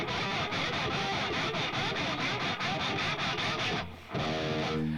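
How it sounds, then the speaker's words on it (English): High electric guitar strings scraped with the hand while the low strings are muted and no noise gate is on, a steady harsh hissing scratch that briefly dips near the end before resuming. "just the high strings sound like this when I like scrape up here"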